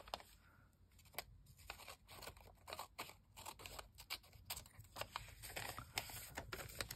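Scissors trimming the top edge of a tall, narrow paper envelope for a junk journal, a run of close, crisp snips and rustles at a steady, uneven pace with light paper handling between cuts.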